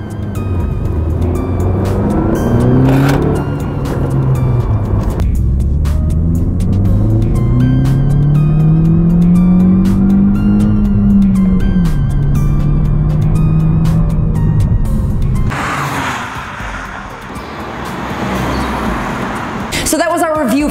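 A green 2017 Honda Civic Si Coupe accelerates hard on a test drive, the engine note climbing and holding through the gears, then dropping off before rising again. It is loud and close, heard from inside the car.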